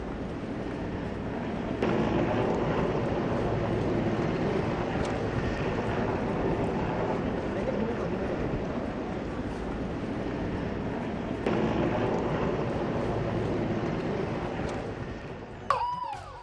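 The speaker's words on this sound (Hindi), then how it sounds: "सबसे पहले एम्स पर हेलीकॉप्टर से की गई पुष्प वर्षा" A continuous loud helicopter engine drone with a churning rotor rumble holds steady throughout, briefly swelling, with no speech, as it flies over AIIMS hospital showering flower petals.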